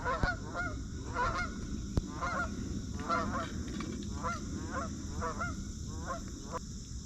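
Geese on a river honk repeatedly in uneven bursts, several birds calling at once at moderate distance over a low background rumble, with a sharp click partway through.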